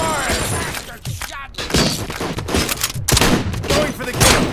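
Heavy gunfire in the video game RoboCop: Rogue City, with repeated loud bursts and thuds, shattering impacts and brief gaps between volleys, mixed with game voice lines.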